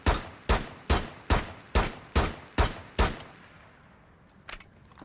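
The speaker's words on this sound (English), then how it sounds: "Now we're going to hip fire with controlled fire rate." Gun hip-fired at a controlled rate in Rainbow Six Siege, eight evenly spaced sharp shots, loud and close, each with a short decaying tail, followed by fainter shell or impact clinks.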